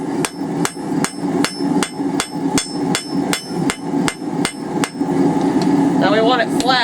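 Hammer blows ring out in a steady rhythm, about a dozen sharp metallic strikes as a blacksmith draws a taper on hot steel while forging a hand fuller, then the hammering stops and scraping follows.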